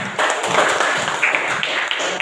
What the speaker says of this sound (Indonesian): Tepuk tangan untuk Latifah